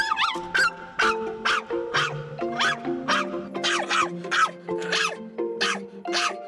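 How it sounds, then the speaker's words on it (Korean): Dog in a stationary car barking repeatedly at the windshield wipers, loud sharp yaps in a fast irregular series, close and alone. "정지된 상태에서 지금 와이퍼를 보고 계속 짖잖아요"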